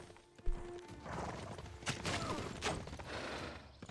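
Horse units in Civilization 6 moving in a clatter of hoof clip-clops, with a couple of sharp impacts and a murmur of battle noise, moderately loud and busy throughout.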